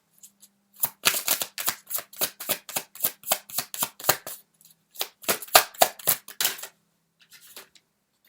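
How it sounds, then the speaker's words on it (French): Tarot cards being shuffled, a quick run of crisp riffling flicks in steady rhythm, a brief pause, then another burst of shuffling before the cards go quiet. "Donc on va sortir une dernière carte."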